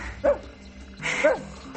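A man imitates a dog, giving two short yipping barks about a second apart, close and fairly loud, in a comedy scene.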